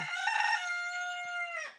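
A rooster gives one full, loud, close crow lasting almost two seconds, heard alone with no talk over it.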